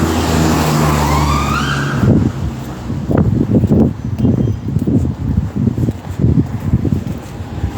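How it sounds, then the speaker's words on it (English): An ambulance siren wailing with rising and falling tones on a street, loud at first, then cut off and replaced by passing traffic rumble and wind noise. "There's sirens on."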